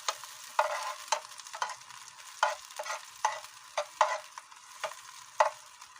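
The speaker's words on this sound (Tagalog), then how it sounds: "Haluin lang natin ang haluin hanggang sa mag-brown siya." Kamansi (breadfruit) and onions frying in a pan, stirred with repeated scraping strokes roughly every half second over a steady low sizzle, close and clear, with no talking.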